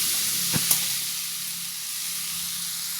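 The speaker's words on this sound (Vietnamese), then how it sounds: "Tắt bếp đang mình chiên cái phần hem với lại mì căng của mình ha." Vegetarian ham and wheat gluten for spring rolls fry in a pan, giving a steady close sizzling hiss with a couple of brief clinks near the start and no talking.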